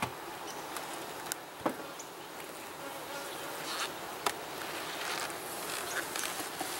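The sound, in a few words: honeybees buzzing in an opened hive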